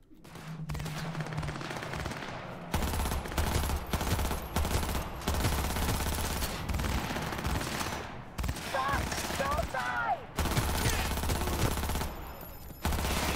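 A submachine gun in Cyberpunk 2077 fires in rapid, sustained bursts through most of the stretch, loud and close, with brief pauses between volleys and some game voices mixed in.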